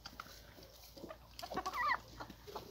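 Hens clucking softly as they gather around a pot of food set down in the middle of their run, a few close murmuring clucks with one louder burst, no talk.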